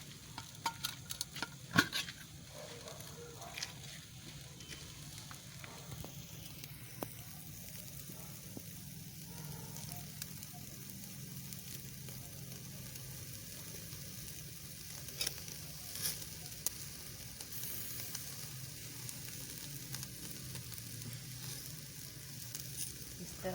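Chicken malai boti sizzling steadily on a barbecue grill as oil is added, a continuous crackling hiss with occasional sharper pops, moderately loud and close with no talking.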